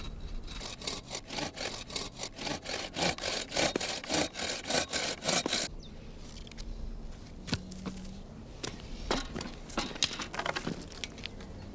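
A hand saw cuts through a hazel fork for a traditional forked rake handle. Rapid, steady back-and-forth strokes come first, then a quieter stretch of scattered scraping and knocks, close and with no talking.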